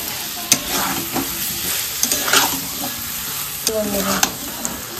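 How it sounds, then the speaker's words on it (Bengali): Boiled potatoes are stirred into a sizzling spice masala with black cumin in a pan, with steady frying hiss broken by sharp scrapes and clacks of the spoon against the pan, close and loud. "এর ভিতরে সেদ্ধ করা আলু দিয়ে দিব, ভালো করে নাড়িয়ে নেব।"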